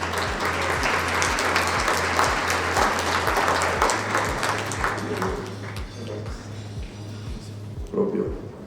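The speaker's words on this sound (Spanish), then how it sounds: "Un aplauso." Audience applause welcoming a panel moderator at a water-crisis conference panel, a steady, full round of clapping from a sizable crowd that carries on and slowly thins toward the end, with a low rhythmic pulse of music beneath it.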